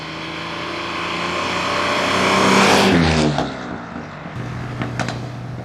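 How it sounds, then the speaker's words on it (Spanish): A Bentley engine drones loudly at speed from inside the car, a steady rumble that rises and swells toward a peak before dropping to a lower, smoother hum, with brief rattles and knocks late on. "cuando vas un poco más rápido, como decías, el ruido del motor disminuye un poco"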